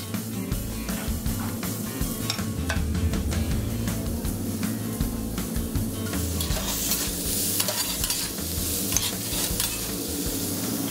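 Rice and sautéed vegetables stir-frying in a hot pan, a loud, continuous sizzle with steady scraping and stirring throughout and no talking.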